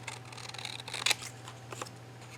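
Scissors snipping through a printed photo for a 3D photo craft, a few quiet close cuts with one sharper snip over a steady low hum.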